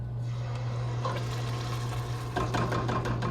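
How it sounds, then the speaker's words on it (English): Great Value tomato sauce pours into a cooking pan, a thick liquid glugging and splattering that builds toward the end over a steady low hum, with no talk. "So we're gonna pour the tomato sauce in here."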